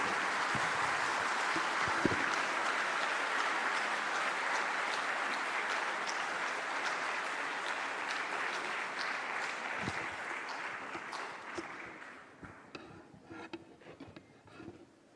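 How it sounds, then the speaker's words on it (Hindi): Audience applause at a live public event in Lucknow marking the launch of BSNL's indigenous 4G network, a dense, sustained clapping that holds steady for about twelve seconds before thinning into scattered claps and fading. "आप सबकी जोरदार तालियों के साथ।"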